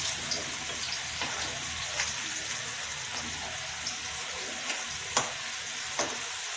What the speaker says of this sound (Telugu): అన్నీ ఇలాగే చక్కగా వేపుకుందాం ఆయిల్లో వేసి.